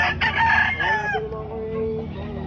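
Fighting rooster (gamefowl) at a Lipa City breeder's yard in the Philippines crows loudly and close, one long strained call that trails off into a lower, fading tail with steady background noise.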